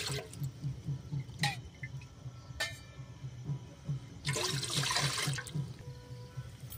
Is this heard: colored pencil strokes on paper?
no